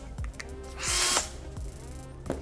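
Snap-on NanoAxcess 1/4-inch cordless screwdriver running in short bursts, a high motor whir with ratcheting clicks between them, close and clear with no speech.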